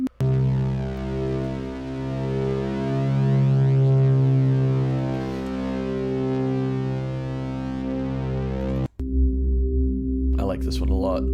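Synthesized singing bowl tone with distortion, a dense sustained drone full of stacked harmonics that holds steady for about nine seconds, then cuts off and is followed by a short cleaner tone.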